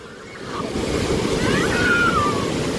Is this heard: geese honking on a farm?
no